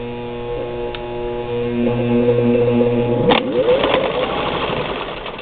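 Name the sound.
1952 Singer 15-91 sewing machine running on its motor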